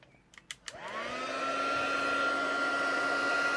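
Embossing heat gun switching on after a few light taps, its steady blowing whir with a rising tone settling into a constant close, fairly loud roar.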